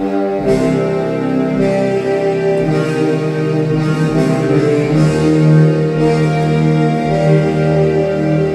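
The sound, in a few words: piano playing theme, left hand rising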